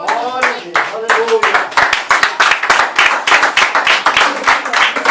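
Congregation clapping in praise during a church service, with dense, irregular hand claps close by, mixed with voices and a few brief murmured exclamations.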